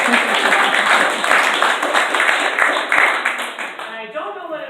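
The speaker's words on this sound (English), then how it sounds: "thank you for your applause" An audience at a winery campaign event applauds in a dense, steady patter of many hands that thins out toward the end, with a voice starting to speak over the fading claps.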